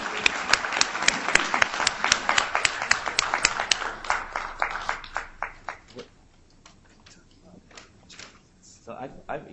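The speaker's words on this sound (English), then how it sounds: "a round of applause" A round of applause from a conference panel audience, loud and dense at first, then thinning into scattered claps before fading out.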